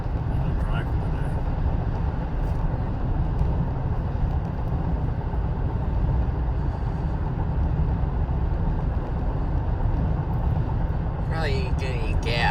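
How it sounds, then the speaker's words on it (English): Steady low road rumble from inside a moving car, a constant broadband drone that fills the whole stretch, with a voice briefly speaking near the end. "I'm driving today."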